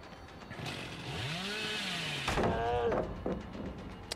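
A chainsaw revs up and winds down in Dead by Daylight as a feint, its rising and falling whine prominent, then a sharp burst of harsh noise and clatter near the middle.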